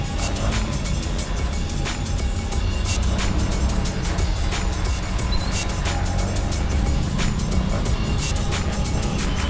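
Dense road traffic on EDSA with a truck swerving among the vehicles, a continuous loud engine and tire roar with passing rushes and no clear individual events.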